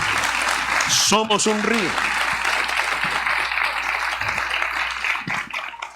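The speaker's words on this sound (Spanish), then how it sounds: "Denle ese aplauso al Señor, por favor." Loud, sustained applause from a church congregation fills the space while someone speaks briefly over it.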